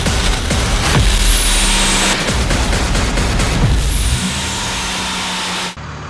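Stage 2 ported 24-valve Cummins diesel truck running hard on a dyno, a loud, sustained engine roar with a sharp high whine that rises and falls, then winds down near the end.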